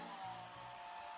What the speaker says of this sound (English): either wait for it to dry naturally or use a hairdryer set to cool